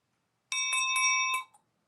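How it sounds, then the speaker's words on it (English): An old brass dinner bell rings clearly in four quick strikes, bright and close, its tone holding briefly after the last stroke before fading; no one talks over it. "It's a nice old brass bell."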